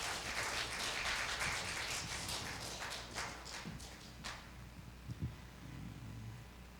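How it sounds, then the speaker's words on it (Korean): Church congregation applauding after a certificate is presented for completing a discipleship training course at a Sunday service, a broad dense clapping that fades out after about four seconds, followed by a few scattered thumps. "큰 박수 부탁드리겠습니다."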